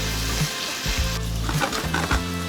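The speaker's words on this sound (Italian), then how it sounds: "l'aglio sta sfrigolando" Halved garlic cloves sizzle loudly and steadily in olive oil in a frying pan, with crackling pops and occasional stirring scrapes, and no voices.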